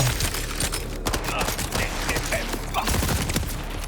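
Gunfire in the first-person shooter Borderlands 4, a continuous rattle of rapid shots with clicking mechanical sounds, moderately loud and busy throughout, without voices.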